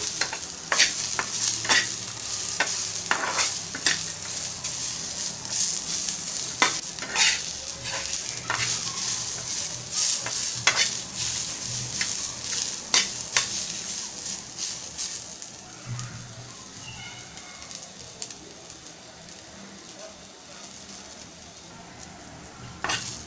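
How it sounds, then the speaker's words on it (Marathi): Ingredients for Malvani egg curry sautéed briefly in a pan, a soft sizzle under repeated sharp scrapes and taps of a spoon stirring against the pan, close and steady, easing off near the end. "जास्त असं आपल्याला भाजायचं नाही आहे, थोडंसं परतवायचं आहे। 1 मिनिटभर आपण परतवून घेऊया।"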